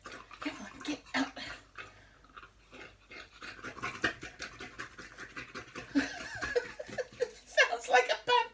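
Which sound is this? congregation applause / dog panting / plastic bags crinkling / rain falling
dog panting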